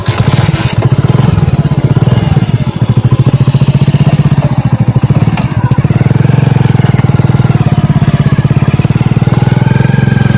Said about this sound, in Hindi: बाइक चलाने में मुश्किल हो रही है इस रास्ते पर